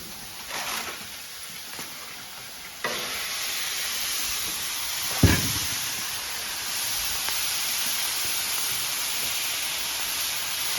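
Meat and shrimp sizzle on a hot griddle in a steady broad hiss that jumps louder partway through as more food hits the surface, with a sharp crackle and stir near the middle, close and continuous with no talk.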